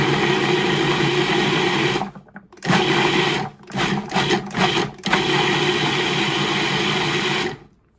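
A blender with its lid on chops ginger dressing ingredients in loud, continuous whirring bursts, stopping briefly for a few short pulses before running steadily again.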